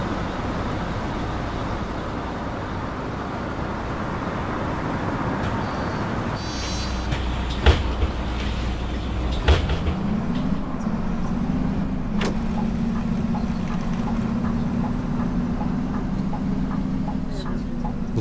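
Scania 11M bus engine in OMSI 3 runs as a steady low drone throughout, with a deeper idling hum settling in after about ten seconds, a few sharp clicks and knocks on top, and occasional faint talk.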